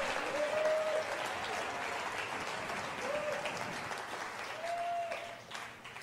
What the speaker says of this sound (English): Everybody clap, thank God.